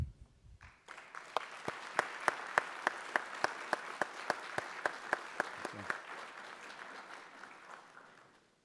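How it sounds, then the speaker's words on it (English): A school committee audience gives a student gold medal winner a round of applause, steady clapping that swells quickly, holds for several seconds, then tapers away. "So let's give her another round of applause."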